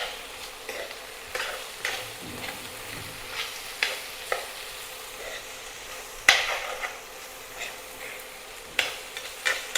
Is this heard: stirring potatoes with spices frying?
yes